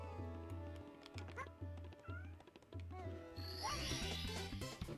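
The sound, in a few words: pet cat meowing loudly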